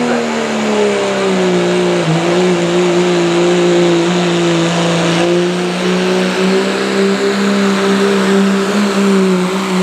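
A diesel pulling truck roars at full throttle down the track at a truck and tractor pull in Caldwell, Ohio, a loud sustained drone whose pitch holds and gently shifts, continuous and close.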